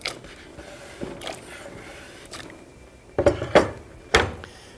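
A spoon stirs carrots and spices, ginger, chilies, coriander and turmeric, in a cooking pot, giving a quiet scraping bed and then several sharp metallic clinks and knocks against the pot near the end, close and without talk.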